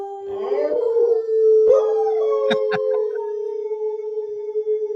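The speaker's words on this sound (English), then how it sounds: "That's me howling with Duncan." A dog, one of the speaker's pets, howls in long wavering tones together with a person howling along, the two voices blending for several seconds at close range.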